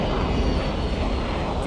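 Airbus A310 jet engines strain at full thrust as the airliner climbs steeply, a loud, steady broadband roar with a deep rumble that holds constant throughout.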